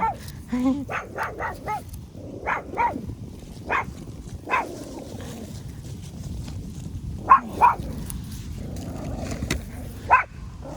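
A dog barks repeatedly outdoors during a wild shaggy mane mushroom-picking outing, with sharp barks clustered in quick runs, then spaced out and fading, fairly close over a low background rumble.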